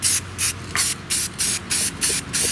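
A 1932 Delco 16-inch fan gets a quick spray paint job: a rhythmic series of about eight short, hissing bursts from the spray can, each cut by a brief pause.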